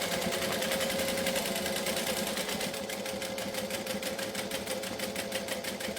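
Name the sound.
sewing machine stitching a wallet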